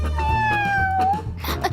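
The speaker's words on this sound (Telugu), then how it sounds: "నాకు ఈ పిల్లి కావాలి" A cat meows once in a long, drawn-out falling cry, close and clear over a background hum, followed by a brief rustle in a comedy film scene.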